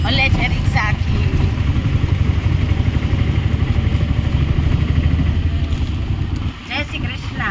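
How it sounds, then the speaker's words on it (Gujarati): An auto rickshaw rattles and drones steadily throughout the ride, its small engine loud and close with a rhythmic clatter, briefly dipping near the end as a voice talks over it. "હલે છે રિક્ષા આખી."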